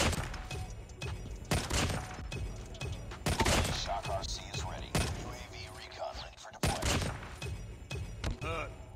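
Rapid bursts of gunfire from a Call of Duty Mobile match crack in loud, dense volleys with short gaps, mixed with game effects and a player's voice speaking over it.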